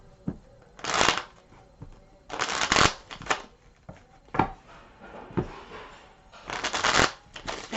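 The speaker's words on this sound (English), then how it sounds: "So let me start by shuffling here." Tarot cards are shuffled in several quick riffling bursts separated by short pauses, crisp and close, with light handling noises between.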